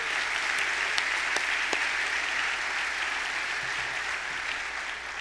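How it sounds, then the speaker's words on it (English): Audience at a teacher appreciation event giving a sustained round of applause, a thick continuous wash of many hands clapping that holds steady and eases slightly toward the end, with no talking. "Please give a round of applause to the employees and the associates of the Chamber."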